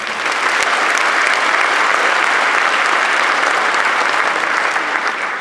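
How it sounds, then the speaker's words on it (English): Sustained applause from a large crowd at a 2015 convocation, steady and dense throughout with no pauses, filling the whole stretch. "Linda Brill, let's give her another round of applause"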